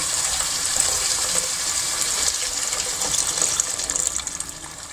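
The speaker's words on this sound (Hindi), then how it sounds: "अब इसमें डाल देंगे 2 गिलास पानी।" Steady rush of water poured continuously into a cooking pot of masala and peas, a broad hissy splash with no talking, fairly close and even throughout.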